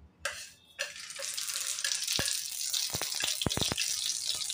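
Mustard seeds hit hot oil in a pan while preparing vada pav, setting off a steady hiss of sizzling with a series of sharp pops and crackles from about midway on, close and moderately loud.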